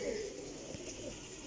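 High-quality pigeons cooing softly in a loft, low murmuring coos under a steady background hiss.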